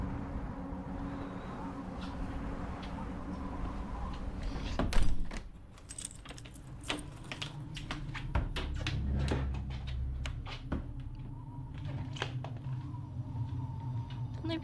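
A door opening in Sirenna Abyss, with a loud clunk and rattle followed by scattered metallic clicks, scrapes and jangling over a low rumbling background, fairly close and without talking.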